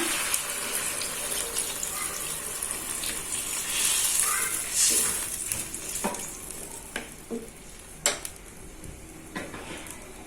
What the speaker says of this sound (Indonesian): Jadi ini akan saya kasih air ya.